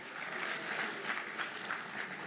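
An audience at a State House ceremony applauds with steady, dense clapping throughout, moderately close and even in level, with no talking over it.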